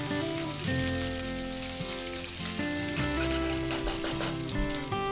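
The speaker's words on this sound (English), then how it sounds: "add 1 teaspoon mustard seeds, add 30 to 35 curry leaves and then fry this for few seconds" Mustard seeds and curry leaves frying in hot oil in a pan, a steady close sizzle and crackle running throughout, with background music playing over it.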